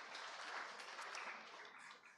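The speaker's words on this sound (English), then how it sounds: "Let's clap for all our pitchers in that category," An audience at a pitch competition and showcase claps for the pitchers and judges, a soft, dense patter of applause heard from a distance and fading slightly at the end.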